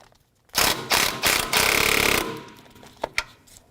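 A ratchet with a 14mm socket loosens the nuts on a thermostat housing bracket of a Dodge Dakota, Durango, RAM or Jeep ZJ, giving a few rapid clicking bursts and then a couple of sharp clacks, close up with no talking.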